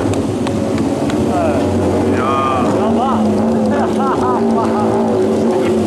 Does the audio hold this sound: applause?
no